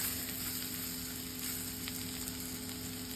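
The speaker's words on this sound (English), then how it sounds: "So I'm adding that right now, and then stirring it again." Bitter melon sabji cooked with Indian spices sizzles and fries steadily in a pan while being stirred, a continuous close, loud crackle with no talking.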